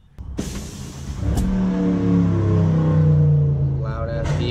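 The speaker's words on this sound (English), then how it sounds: "loud ass vehicles driving by?" Loud road vehicles pass close by a car being fitted with a Lexan windshield, one engine rising and revving steadily as it sweeps past after a sharp knock at the start.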